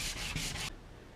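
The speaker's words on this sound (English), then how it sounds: "So let's just sand that really quickly." A wedge-shaped wooden piece for a mallet head being sanded in three quick, close, loud rasping strokes, each about a quarter second, followed by sudden quiet.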